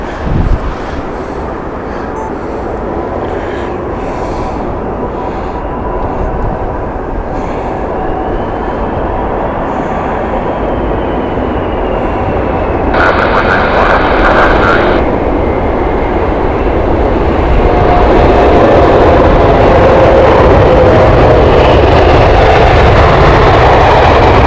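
Airbus A380 airliner at Heathrow Airport, its jet engines roaring loud and continuous, swelling in intensity partway through and holding a heavy rumble to the end.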